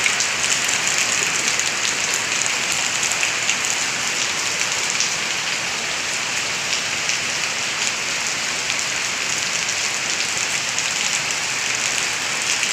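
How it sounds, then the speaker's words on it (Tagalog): Sudden heavy rain pouring down steadily, a dense, constant hiss of drops hitting surfaces close by, with no voices. "Bakit bigla na lang bumuhos tong ulan na to?"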